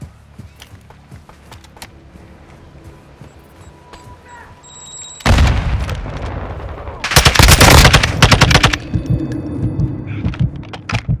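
Loud bursts of automatic gunfire from the video game Call of Duty Modern Warfare II erupt after a quieter stretch, with rapid-fire volleys and dense shots dominating the latter half.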